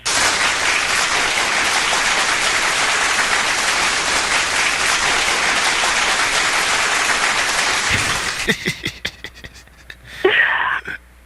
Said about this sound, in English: the claps was kind of long